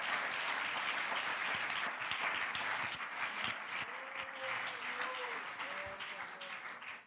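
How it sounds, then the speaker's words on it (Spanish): A church congregation applauds the Lord during a worship service, a dense sustained wash of clapping that gradually thins as faint voices or tones rise underneath toward the end. "Dele el aplauso al Señor."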